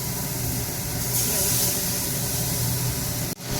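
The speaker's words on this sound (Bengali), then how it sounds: "এই যে মাছের মাথাটা ভাজা হচ্ছে" A fish head fries in oil for a vegetable curry of stalks and potato, giving a steady, fairly loud broadband hiss that runs throughout and ends with a brief dull knock.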